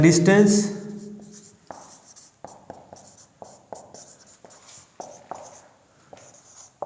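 Chalk or marker strokes on a board during a physics lecture on vernier calipers, a string of short taps and scratches following a brief burst of speech at the start.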